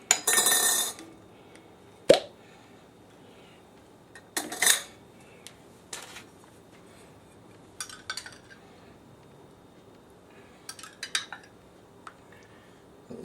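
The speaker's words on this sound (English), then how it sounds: "I'm gonna go ahead and give everything a mix" Spoon mixing barbecue sauce ingredients in a bowl, heard as several separate bursts of clinking and scraping against the bowl with quiet gaps between, fairly close and otherwise alone.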